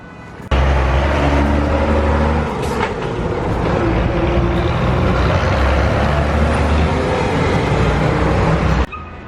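Steady loud vehicle rumble passes along a downtown Kingston street, with a low engine drone holding for about eight seconds before cutting off, the busy roadway noise staying close and continuous.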